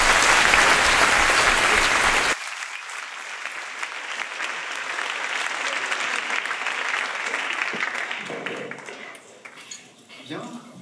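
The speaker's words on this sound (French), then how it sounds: "On peut l'applaudir pour le remercier d'être venu" Audience in a lecture hall applauding a guest speaker: loud, dense clapping that breaks off abruptly, then a quieter, thinning patter of claps continues under a room tone before fading out near the end.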